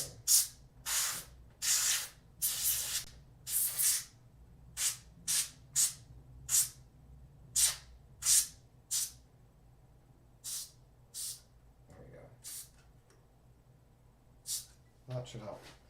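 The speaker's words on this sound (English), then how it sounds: "spray some of this air in there" Compressed air sprays in short, sharp hissing bursts into a keyboard to clear a sticky R key. The blasts come close and loud, a quick cluster at first, then spaced-out puffs with pauses between them.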